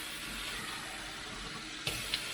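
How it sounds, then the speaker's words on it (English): Water runs from a tap in a steady, even rush as it is measured out to cook rice, with a couple of small knocks near the end. "we'll put the equivalent amount of water in"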